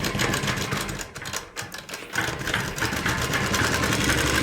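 A sewing machine runs steadily as it stitches darts on a kameez, a fast continuous mechanical whir with a brief slowdown partway through, close and loud, with no talk.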